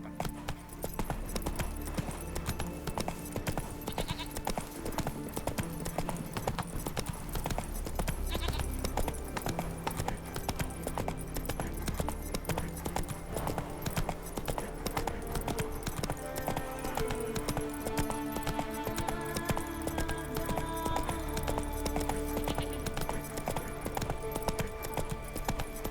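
Horse hooves clip-clop steadily at a walking-to-trotting rhythm in The Witcher 3 video game, close and continuous under a dense backdrop of game music and ambience.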